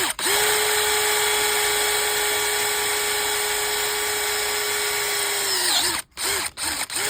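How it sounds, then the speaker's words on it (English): A power drill whines at a steady high pitch while cutting through aluminium, then spins down and stops with a few short bursts at the end. "I know it's only going through aluminium."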